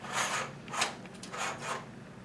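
A bicycle seat post scrapes and slides into the frame with a quick-release bracket, four short rasping strokes close to the listener, with no talk.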